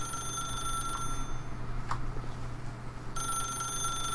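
A telephone rings in the video game The Stanley Parable, a steady electronic trill that continues through the clip, with a brief break near the end before it resumes, and no one speaks.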